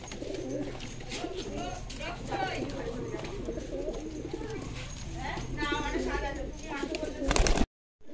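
Pigeons in a loft coo continuously, soft rolling calls close by, while someone talks over them throughout and wings or feet shuffle nearby.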